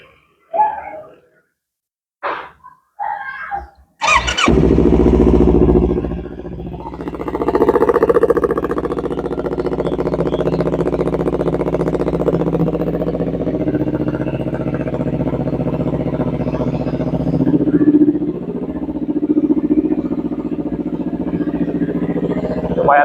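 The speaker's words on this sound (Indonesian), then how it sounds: "ini Yamaha R25 gua knalpotnya udah ganti pakai Proliner ya. Jadi suaranya lumayan keras" A Yamaha R25 two-cylinder sport motorcycle fitted with a Proliner exhaust starts up after a few short cranks, then idles loudly nearby with a throaty rumble and several revs of the throttle.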